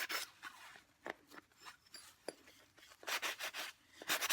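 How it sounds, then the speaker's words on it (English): Sandpaper rubs over sharp metal edges to remove loose bits, giving faint, close, irregular scratchy strokes in short bursts with quiet pauses between them. "you definitely want to make sure that any of the loose metal has been sanded away"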